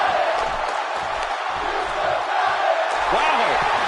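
Arena crowd in the WWE 2K17 wrestling video game, a steady dense buzz of many voices filling the space, loud and continuous with faint swells.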